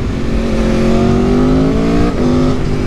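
Motorcycle engine revving hard and climbing in pitch, with a brief dip at a downshift before pulling up again; loud and close, no talk.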